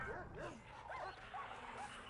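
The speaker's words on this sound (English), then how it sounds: "The dogs are fighting." Dogs snarl, yip and whimper faintly in a fight inside the prison management game Prison Architect, the quiet canine cries rising and falling in short bursts over a low background murmur.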